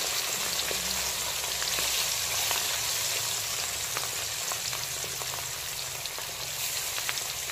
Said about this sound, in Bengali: এখন লবণ আর হলুদ মাখানো মাছগুলোকে আমি একে একে তেলের মধ্যে দিয়ে দিচ্ছি।